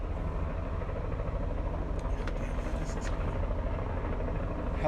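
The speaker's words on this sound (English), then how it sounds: "Helicopter's messing with my train of thought." A helicopter drones steadily overhead as a low, constant rumble with a faint rotor chop, filling the background throughout without any voices.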